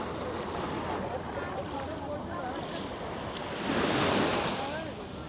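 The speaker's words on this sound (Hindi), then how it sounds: "और ये यहाँ का समुंदर" Sea waves washing onto a Dubai shore, a steady broadband rush with a swell building louder near the end, mixed with wind noise on the microphone.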